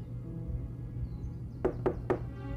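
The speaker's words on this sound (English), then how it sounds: "Someone at the door." Three quick, solid knocks on a door, evenly spaced and moderately close, over a low background hum.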